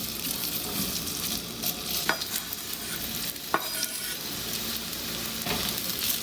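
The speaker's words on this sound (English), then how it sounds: "Once your oil's nice and hot, get your potatoes added." Potatoes sizzle and crackle steadily in hot oil on a griddle, a dense, continuous fry with a few sharp scraping clicks from a plastic spatula along the way.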